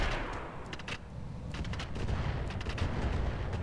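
Volleys of LRM missiles launched in the Roguetech BattleTech video game, with rumbling, steady low launch noise and several clusters of sharp crackling bursts over a few seconds.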